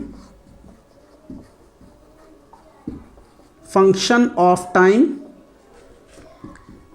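Writing on a board in a physics lecture produces soft, scratchy strokes in short bursts. A voice speaks loudly for about a second in the middle.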